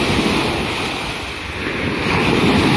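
Ocean waves washing onto a Malaysian beach, a steady loud roar of surf mixed with heavy wind buffeting the microphone, no voices.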